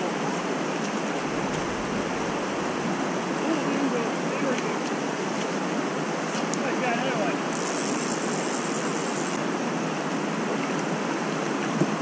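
A fast-flowing stream, the main current near a fishing spot for Arctic grayling, rushes steadily and close by as an even, unbroken wash of water noise throughout.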